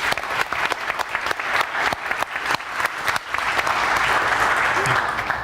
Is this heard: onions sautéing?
no